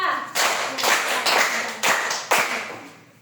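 Five sharp hand claps in a steady, evenly spaced rhythm, close and loud, led by a teacher in a classroom clapping exercise, with a faint voice underneath.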